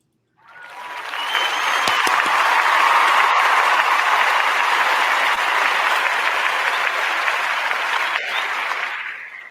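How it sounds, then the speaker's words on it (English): A burst of applause rises quickly and sustains as a loud, dense wash of clapping for several seconds, then tapers slightly near the end, with no talk over it. "Let me give you a clap."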